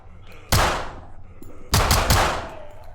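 Guns fire in the video game Pandemic SCP: a loud single shot, then a quick cluster of several rapid shots about a second later, each followed by a decaying echo.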